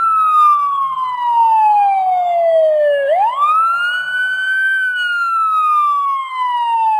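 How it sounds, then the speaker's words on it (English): An emergency siren wails in long sweeping rises and falls, a clear continuous tone dominating the scene with no other sounds or voices. "In the distance they heard a siren."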